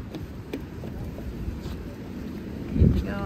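Steady low wind rumble buffeting the microphone outdoors at a zoo, with a brief louder gust near the end.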